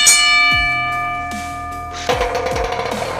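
Two metal Beyblade spinning tops, Lightning L-Drago and Meteo L-Drago, battle in a stadium, ringing with a sustained metallic tone and struck by several sharp clashing hits, close and loud.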